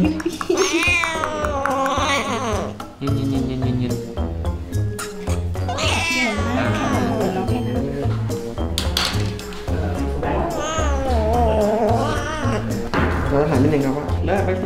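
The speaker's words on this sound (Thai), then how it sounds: "เสือขู่เลย อย่าดิ้นนะลูกจะเข็มทิ่มเลย" A cat hisses and yowls loudly while getting a vaccination, the caterwauling rising and falling almost without pause over close, continuous handling noise as people talk throughout.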